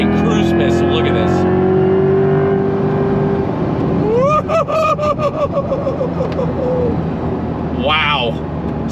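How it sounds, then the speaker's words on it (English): A Chevrolet C8 Corvette E-Ray's V8 engine rumbles, then revs hard as the car accelerates through rising gear pulls, loud and close, with someone talking excitedly over it. "And you got that V8 rumble out back. Ready? On throttle, here we go."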